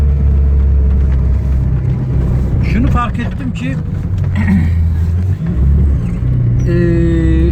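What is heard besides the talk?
car driving up a village road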